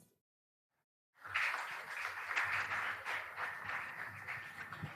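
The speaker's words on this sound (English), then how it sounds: "a round of applause for the quiz mistress" After a second of silence, a hall audience breaks into sustained, dense applause for the quiz mistress at an inter-school quiz competition at a Faculty of Pharmacy, steady and fairly loud to the end.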